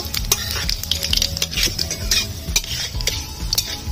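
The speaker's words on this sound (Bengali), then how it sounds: "দিয়ে দিচ্ছি দুটো শুকনো লঙ্কা ফাটিয়ে, কালো জিরে, নাড়াচাড়া করে নেব" Dry red chillies and nigella seeds tossed in hot mustard oil in a pan: close, busy scraping and clinking of a spatula against metal, with a light sizzle running underneath and no talking.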